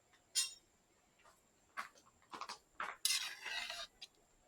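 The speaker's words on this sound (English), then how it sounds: "let me give it a stir" A spoon stirring Jamaican rice and peas with coconut in a pot over an outdoor coal fire, giving scattered soft scrapes and clinks of metal on metal that are close and fairly faint, with quiet gaps between strokes.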